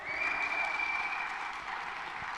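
A church congregation claps for Jesus during a Spanish-language sermon, the applause steady and dense throughout, with a faint sustained tone riding above it.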